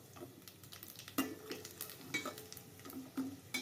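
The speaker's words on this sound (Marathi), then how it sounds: "जिरं बडीशेप टाकून थोडंसं ढवळायचं" Cumin and fennel seeds stirred in hot oil in a pan on low heat. Faint sizzling sits under a string of light scraping taps and clinks from the spoon at an uneven pace.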